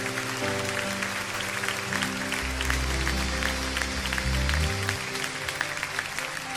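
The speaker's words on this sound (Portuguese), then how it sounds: "Você pode aplaudir ao Senhor." A church congregation claps during a worship service, steady dense applause over sustained low organ or keyboard chords, with faint crowd voices mixed in.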